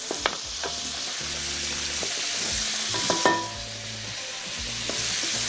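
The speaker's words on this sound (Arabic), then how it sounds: "حط عندي الزبده كويس جدا عندي، واقوم واخد ثلاث معالق من الدقيق" Butter and flour sizzle steadily in a pan while a spoon stirs them with repeated scraping strokes, cooking a roux for béchamel; close and continuous, with no talking.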